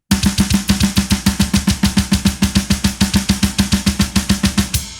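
A fast hammer blast beat on a drum set, kick, snare and cymbal hammered in unison in a rapid, relentless stream of roughly thirty hits, loud and close, closing on a fading cymbal wash.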